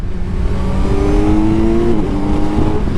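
A 2025 Kawasaki Z900 sport motorcycle engine revs up through its range, a loud, close whine that rises steadily in pitch and then climbs again, with no talk over it.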